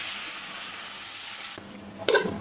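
Spices for a kakrol bhaji with sesame sizzle steadily in a pan, then thick coconut milk is poured in, changing the hiss and ending with a brief louder splash and bubbling, close by with no voices.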